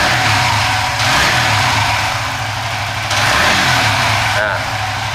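A car engine idles steadily with an ECU tuned by an Apitech unit, a loud, close, even low rumble with slight shifts in pitch and no talking.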